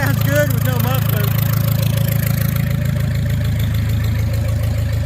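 An International Harvester 464 tractor engine idling with no muffler and a new electronic ignition, a loud, steady, throbbing low rumble close by, with someone briefly talking over it at the start.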